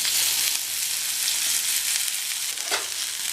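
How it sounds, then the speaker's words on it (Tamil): Broad beans sauté in hot oil with mustard seeds, curry leaves and asafoetida, giving a steady close crackling sizzle with a brief stirring scrape near the end and no speech. "ஜஸ்ட் 1 நிமிஷம் வதக்கிக்கோங்க எண்ணெயிலேயே."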